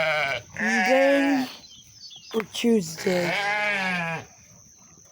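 Sheep on a farm bleat loudly and close by in two long wavering calls with a short gap between them, and someone speaks briefly in between.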